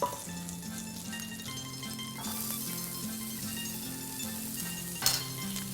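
Veal browns in a pan with a soft, steady sizzle, close and quiet, joined by a faint clink of a utensil near the end, under light background music with no talking.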